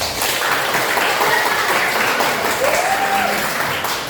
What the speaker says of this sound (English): let's give them a lot of claps.